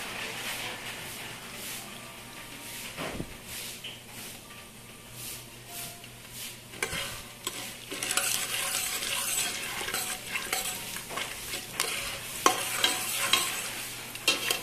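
Kernels begin popping in a cooking pot while being stirred, a hot crackle building from about seven seconds into denser scattered pops over a steady sizzle, with metal scraping the pan.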